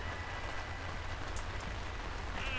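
Steady rain pattering on surfaces in the video game Lakeview Cabin 2, a continuous even downpour with no voices.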